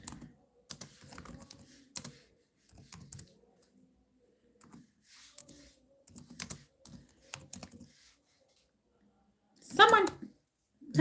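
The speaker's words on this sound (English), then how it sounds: "Let someone type." Computer keyboard keys tapped in short, irregular bursts of clicks with pauses between them, close and fairly quiet, with a brief louder sound near the end.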